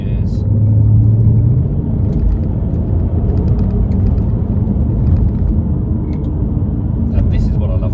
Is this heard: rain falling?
no